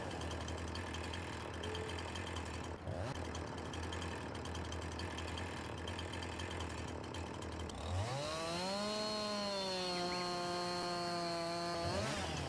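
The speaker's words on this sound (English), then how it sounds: "I do love me a Husqvarna chainsaw" A Husqvarna chainsaw in Farming Simulator 19 runs steadily at high revs for several seconds, then drops and settles into a lower, even idle, loud and continuous with no talk.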